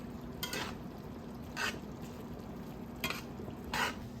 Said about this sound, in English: So add 2 cups of onions to that.